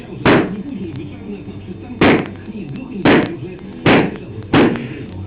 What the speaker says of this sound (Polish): pokaż jak niszczysz balony